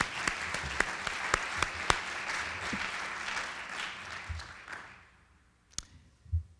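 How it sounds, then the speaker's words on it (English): An audience at a Louisville business conference opening session applauds, with scattered sharp claps over a broad wash of clapping that fades out, leaving a few stray taps at the end. "Let's give them a round of applause."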